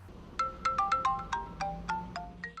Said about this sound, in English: Anna McLean heard her phone ring